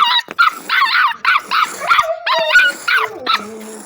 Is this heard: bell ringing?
no